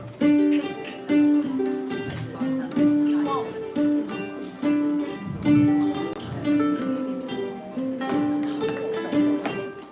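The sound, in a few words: ukulele bass line played with hammer-ons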